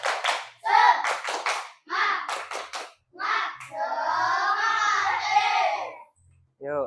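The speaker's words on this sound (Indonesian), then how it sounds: "Ya, coba tepuk semangat." Children in a classroom do a rhythmic spirit clap, bursts of quick claps and chanted voices in a patterned sequence, followed by a long sustained sung or shouted tone before a pause.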